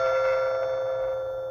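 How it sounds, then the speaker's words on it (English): A Sovmiku smart video doorbell chime rings after its button is pressed, a steady electronic tone held for over a second, close and clear, ending abruptly. "it makes the doorbell noise."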